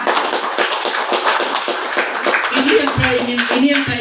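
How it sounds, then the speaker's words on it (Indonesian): An audience at a health talk claps their hands, a brisk, uneven patter of claps that gives way to a voice speaking near the end. "tepuk tangan dong"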